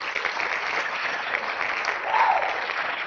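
A short burst of hand-clap applause, soft and steady, with no other sound around it.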